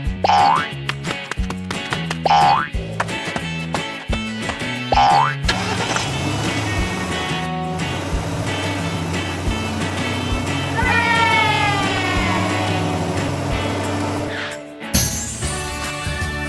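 A cartoon car for the Peppa Pig family sets off, with bouncy boing effects and a whirring engine over cheerful music, ending in a short whoosh.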